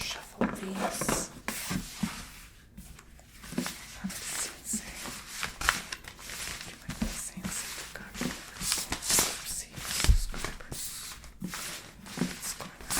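Tarot cards are shuffled by hand in a close, quiet ASMR setting. Soft riffling and tapping bursts repeat irregularly while a person keeps talking over them.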